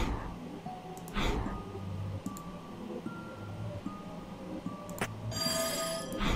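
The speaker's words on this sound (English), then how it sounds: "What was that sound, like a ringing bell? I think it came from this odd device." A teletrophone prototype in a video game gives off a ringing bell tone among game sound effects, moderately loud with a few brief sharp accents and a brighter burst near the end.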